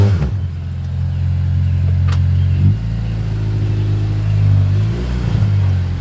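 A car engine holding a steady low idle-like rumble while being preloaded for a launch, shifting pitch slightly near the middle and end, close and loud, with no voices.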